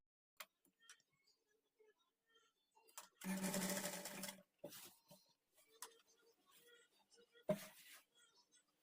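A sewing machine stitches folded lehenga fabric in short bursts, with one sustained run of about a second and a brief later burst, separated by quiet handling noises.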